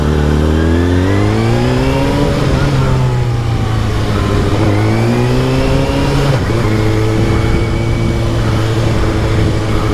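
A 2019 Kawasaki ZX-6R 636 with a Yoshimura Alpha-T exhaust and GP shift pulls hard and loud through its gears, the engine note climbing and dropping again and again with no pause.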